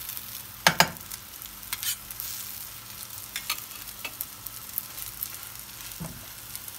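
Kaygana, a Turkish egg batter, fries in a very hot pan, a soft steady sizzle broken by close scraping and tapping of a utensil stirring and turning, with no talk.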